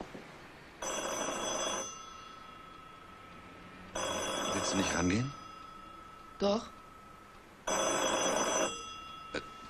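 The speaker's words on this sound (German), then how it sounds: "Das Telefon." An old-style telephone bell rings in three long bursts with pauses between them, loud and close, while a few short words and handling sounds fall in the gaps.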